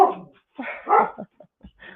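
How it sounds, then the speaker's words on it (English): A dog barks in a few quick bursts close by, then gives softer yips and whimpers as the sound fades out. "there goes my dog"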